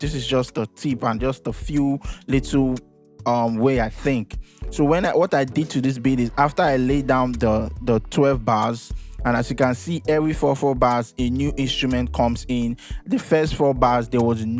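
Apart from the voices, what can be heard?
None of the usual background noises is heard.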